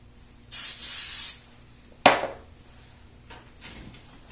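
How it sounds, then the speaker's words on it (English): A few short, light hisses of spray on a small rough-cut scrap of orange fabric for appliqué. One close burst lasts under a second, followed by a sharp handling knock and faint rustles. "Spraying it."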